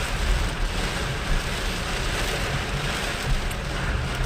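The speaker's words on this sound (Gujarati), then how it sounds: "એટલો ફૂલ વરસાદ આવી ગયો છે" Heavy rain pours onto a flooded road in Adipur, a dense, unbroken roar of falling water and splashing that stays loud and even throughout with no voices.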